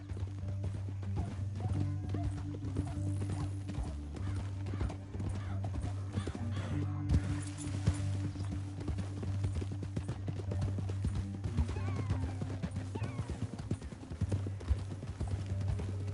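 Horse hooves clip-clopping steadily in the video game Red Dead Redemption 2, a continuous rhythmic trot over a low droning background with occasional whinnies and faint talk.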